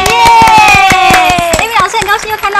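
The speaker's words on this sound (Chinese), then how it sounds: "掌声欢迎！" An audience claps in warm applause at a Chinese beauty and makeup show, steady rhythmic hand claps filling the room, mixed with cheering voices and someone speaking over them.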